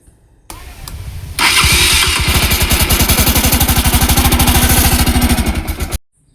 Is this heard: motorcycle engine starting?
yes